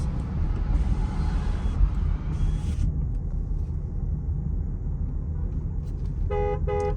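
Car horns honk in short harmonic bursts over a steady low rumble of traffic, muffled as heard from inside a closed Mahindra car cabin with windows shut.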